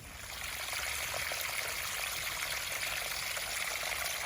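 Creek water flows and trickles steadily, a faint even rush with no voices.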